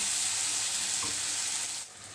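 Tomatoes frying over medium to low heat in a pan for onion sabzi, a close, steady sizzle with a faint stirring scrape that drops off near the end.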